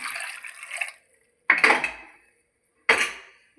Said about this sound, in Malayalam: ഇനി കുറച്ച് വെള്ളം കൂടി ഒഴിച്ചു കൊടുക്കാം